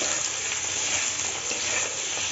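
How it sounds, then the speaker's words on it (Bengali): Tomatoes and cashews fry in a pan for a restaurant-style butter chilli paneer, giving a steady, close, dense sizzle with no voices. "এটা বেশি ভাজবো না, একটু সাদা ভাবে ভাজবো"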